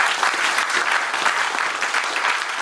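A church congregation applauds in a steady, dense wash of clapping hands that stays loud and even from start to finish, with no break.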